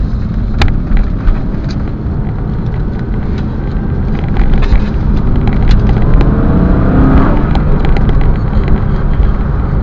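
An Aston Martin Vantage engine roars loudly and steadily, with a deep broadband rumble heavily mixed with wind buffeting and a brief rising rev near the middle.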